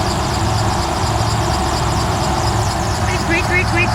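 A 1990s-style Chevy V1500 4x4 pickup idles nearby with a steady low engine rumble, a voice talking over it and a few faint chirps near the end.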